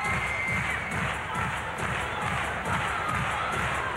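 Arena crowd at the 2006 World Gymnastics Championships women's team final cheering a gymnast, a broad sustained roar with rhythmic pulses of clapping running throughout, loud and continuous.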